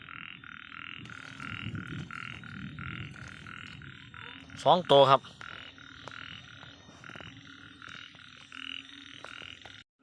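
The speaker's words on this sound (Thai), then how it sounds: "หอนกบครับ" Narrow-mouthed frogs croak in a steady, rhythmic chorus of repeated pulses after fresh rain. Someone speaks briefly over the calls midway.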